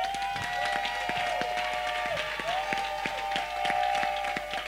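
At a church service a congregation claps and acclaims the Lord. Steady, rapid clapping continues throughout at a moderate level, with a sustained tone and voices running underneath.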